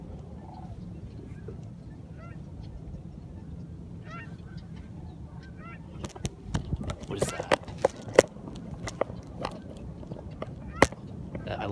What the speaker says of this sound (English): Some sandhills.